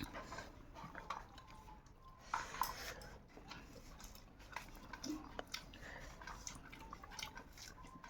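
Soft, wet chewing of rice mixed with bharta, close to the mouth, with irregular small squelches and clicks at a quiet level, interrupted by brief bites and light handling noises.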